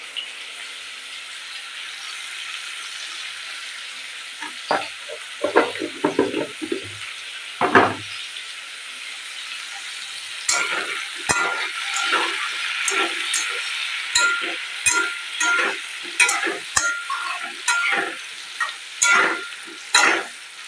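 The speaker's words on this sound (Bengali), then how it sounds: "জাস্ট লবণ হলুদ এটাকে লাল লাল করে ভেজে নেবো" Potatoes and pointed gourd fry in hot oil with salt and turmeric, a steady sizzle broken by bursts of crackling and the scrape of stirring, close and fairly loud with no one speaking.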